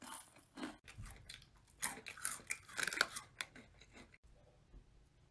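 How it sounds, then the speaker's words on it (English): Loud, close-up chewing with sharp crunchy bites that build into a dense run of mouth noises, then fade to near quiet at the end, with no talk. "Who the fuck is chewing so loud?"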